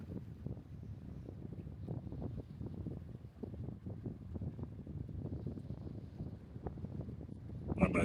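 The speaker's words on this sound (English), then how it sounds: "Very, very windy." Strong wind buffets the microphone beside a lake at night, a steady low roar with rumbling gusts that never lets up, swelling slightly toward the end.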